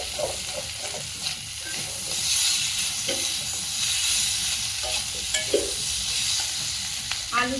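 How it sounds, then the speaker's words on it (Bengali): Potatoes with spices frying in a pan, a steady hiss and sizzle with occasional stirring clicks and scrapes, moderately close and continuous throughout. "এবার আলুটা কষাই করতে খানিকক্ষণ করে নিয়ে তারপর দুধ বলে দেবো।"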